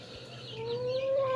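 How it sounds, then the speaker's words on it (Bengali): A rooster on a village farm gives a single drawn-out call that rises steadily in pitch, fairly close, over a low steady background hum. "ওই যে মোরগটা আছে ডাকাডাকি করে,"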